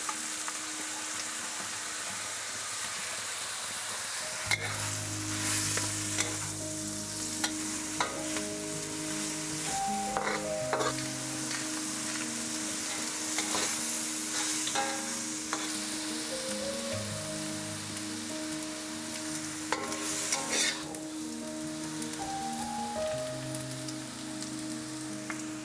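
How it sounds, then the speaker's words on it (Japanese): Firm carrots stir-fry in a pan for home-style yakisoba, giving a soft continuous sizzle with scattered light scraping and tapping of the utensil against the pan. No one speaks. "ちょっとゆっくり炒めます。"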